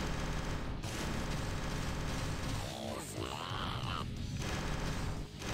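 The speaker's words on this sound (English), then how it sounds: "Machine gun." Machine gun fire from a fighter in the space combat game Wing Commander Secret Ops: a dense, continuous rattle of rapid shots layered over constant engine and cockpit noise, loud and steady throughout, with no talk.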